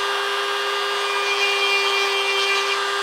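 A small stone cone-shaped grinder bit works along the seams of a cast African wildcat skull, giving a close, steady high-pitched whine with a constant tone and light abrasive hiss throughout.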